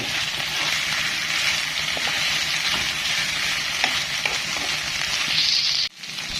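Meat sizzles and crackles in hot oil for adobong kangkong, a steady close frying hiss with occasional pops, dropping out abruptly near the end before resuming more quietly.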